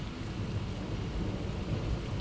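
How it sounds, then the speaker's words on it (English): Heavy downpour in a severe thunderstorm directly overhead, a dense constant roar of rain with deep rumbling thunder rolling underneath throughout, loud and close. "it's so rainy. But the storm is like right above us"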